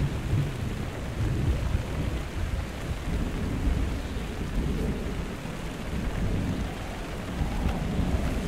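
Rain and rumbling thunder in the video game Minecraft: Story Mode, a steady broadband wash with low rolling rumble throughout, fairly loud and continuous with no voices.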